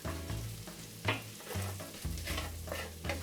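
Bacon and sausage stirred through a hot frying pan, a steady sizzle broken by several scraping strokes of the spoon at an uneven rhythm, close and fairly loud with no talking.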